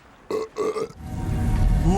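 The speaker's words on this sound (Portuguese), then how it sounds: "até o Thor arrotando na cara do Nick Fury vai ter aqui" Thor from a Marvel animated film lets out a loud, drawn-out belch in two voiced pulses, followed by a rumbling low-pitched tail, close and prominent.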